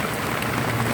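Heavy rain pours in a steady, dense hiss while a tricycle driver waits it out under shelter. The downpour is loud and continuous, with no voices.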